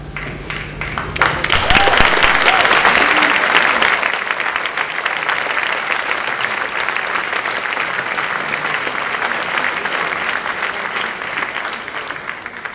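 An audience at a high school academic excellence awards ceremony applauds students, loud sustained clapping that swells after a brief quieter start and then holds steady through to the end.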